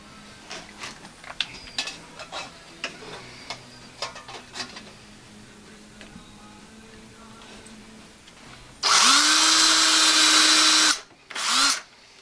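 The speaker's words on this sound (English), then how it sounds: "and then I can tell where I need to drill." A few quiet clicks and taps, then a power drill whirs loudly for about two seconds boring a hole in thin metal for a rivet, stops, and gives one more short burst.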